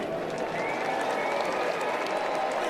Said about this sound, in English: gets a nice round of applause from the Diamondbacks fans here tonight.